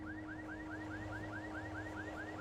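A steady electronic beep repeats in Alan Wake, about four chirps per second, each a quick rising tone, moderately quiet over a constant hum and low background noise.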